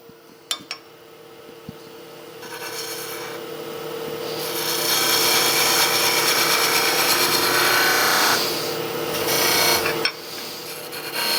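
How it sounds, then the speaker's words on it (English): Sandpaper is held against a bead on a piece of turned wood spinning on a lathe, making a steady, close rasping hiss that builds and holds, preceded by a few light knocks. "When you hit it with a little sandpaper, it'll pull right into the curve."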